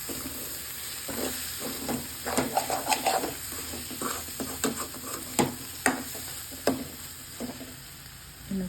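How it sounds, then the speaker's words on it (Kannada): Egg with spring onion fries in a pan, with a steady sizzle broken by repeated spatula taps and scrapes while it is stirred, close up and without voices. "ಇನ್ನು ಸ್ವಲ್ಪ ಫ್ರೈ ಆಗಲಿ ಇದು"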